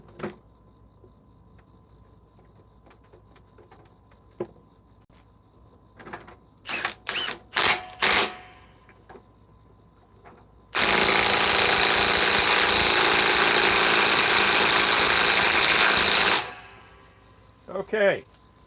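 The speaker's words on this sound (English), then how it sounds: "now let's tighten this up with the Mid Torque Milwaukee with a 6 amp forged" A Milwaukee Mid Torque impact wrench on a 6 amp forged battery hammers a fastener tight in one loud, sustained burst of about six seconds, preceded by scattered clanks and handling noises.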